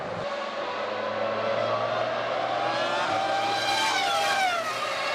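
Formula 1 cars racing at Monza during the 2001 Italian Grand Prix, a continuous high engine whine rising and falling in pitch as cars approach and pass at speed, with a second car sweeping through near the end.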